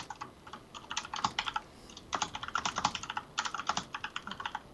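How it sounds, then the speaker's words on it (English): Loud, close computer keyboard typing in rapid bursts of clacking keystrokes, with a short pause midway before the typing resumes steadily; no talking. "your keyboard is really loud"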